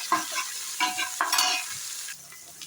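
Onions sautéing in a pan for a home-style Thai-month kuzhambu curry, sizzling in bursts as a spoon stirs and scrapes, close and moderately quiet with no voices.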